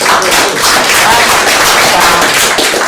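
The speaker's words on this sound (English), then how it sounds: "Okay, but let's clap." A group claps together in a dense, loud burst of overlapping hand claps that continues steadily throughout, with no pauses.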